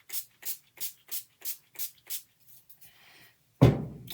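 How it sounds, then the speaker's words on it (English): Seven short, evenly spaced bursts from a pump spray bottle of NYX matte finish setting spray, each a crisp hiss, followed by faint rustling and a louder thump-like handling sound at the end. "Spray it with your NYX matte finish spray."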